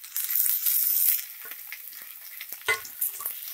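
Tomatoes hit browned onions in a hot pan for pepper chicken fry, setting off a bright burst of sizzling, followed by softer frying hiss and a few scrapes and knocks of stirring.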